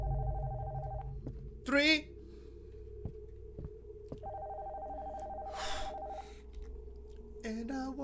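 Telephone ringing upstairs in the horror video game Nocturnal Visit, a repeating electronic ring in steady bursts separated by short gaps, moderately faint, with a player talking between rings.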